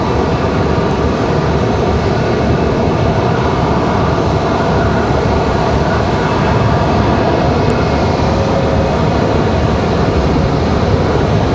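Airliner departing from Raleigh Durham International Airport gives a loud, continuous engine roar that stays steady and close, with no one talking.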